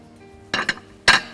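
Liver going into a pot of water during home cooking: a quick pair of metallic clinks, then a third sharper clink, close and clear against a quiet kitchen background.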